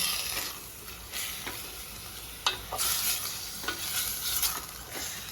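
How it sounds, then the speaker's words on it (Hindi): Chicken pieces stirred in a frying pan with ginger-garlic paste, a steady sizzle broken by several scraping stirs and spoon clatters, close and moderately loud with no talking. "अच्छे से हमें इसको मिक्स कर लेना है।"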